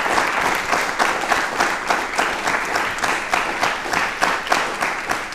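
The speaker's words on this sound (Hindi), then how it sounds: "तो हम सब जोरदार तालियों से स्वागत करेंगे प्रोफेसर डॉक्टर रमेश के अरोड़ा।" A studio audience at a television talk show claps loudly to welcome a guest, with rhythmic, fairly synchronized clapping that continues evenly throughout.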